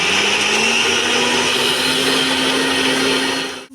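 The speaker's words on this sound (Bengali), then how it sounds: "দিয়ে এটার মধ্যে খানিকটা লবণ দিয়ে একটু হলুদ দিয়ে আমি এটাকে মিক্সি করে নেব" A mixer grinder runs at full power, grinding garlic cloves with salt and turmeric in one loud, continuous whirring drone that stops abruptly at the end.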